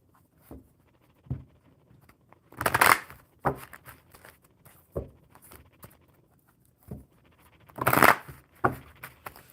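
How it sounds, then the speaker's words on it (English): A deck of cards is shuffled at close range, with two loud riffling bursts around the third and eighth seconds and softer taps and handling of the cards between them, in a quiet room with no talking. "So I'm going to shuffle these ones up"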